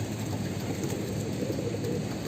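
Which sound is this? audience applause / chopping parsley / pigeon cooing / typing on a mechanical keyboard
pigeon cooing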